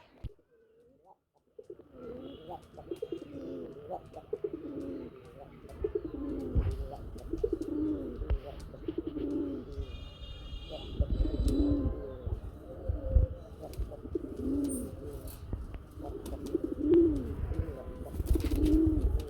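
Rasgolla pigeons coo in a steady, repeating rhythm of low throaty calls, close by, with a few faint chirps and rustles in the background.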